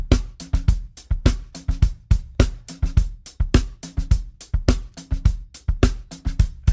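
A drum loop runs through the Drum Sharpener preset on an Eventide Physion mkII effects unit, its tight, crisp kick and snare hits repeating in a steady groove, loud and alone throughout.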